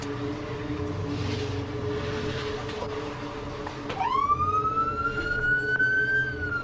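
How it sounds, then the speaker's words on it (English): An emergency vehicle siren starts up and winds up steadily in pitch, loud and fairly close, after a stretch of low road rumble. "I hate the sirens of like 12 sirens."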